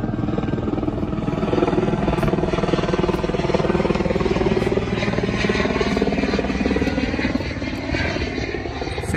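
A helicopter's rotor thumps and engine drone fill the air steadily throughout at Cerny-La Ferté-Alais aerodrome, France, loud and close, with a constant rhythmic beating.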